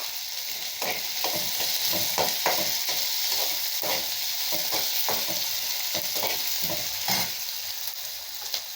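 Sliced onions and green chillies sizzle in hot oil in a pan for a white kurma, with steady frying hiss and repeated scraping stirs throughout.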